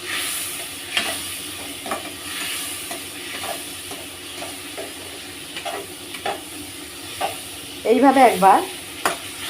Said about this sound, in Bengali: আমি চিংড়ি মাছটা খুব বেশি ভাজবো না, একটু হালকা করে ভেজে নেবো।